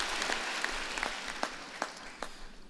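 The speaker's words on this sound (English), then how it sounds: "give yourself an applause" Graduates applauding at a university spring convocation ceremony in a hall, a steady wash of clapping with sharper individual claps standing out, fairly distant and moderate in level.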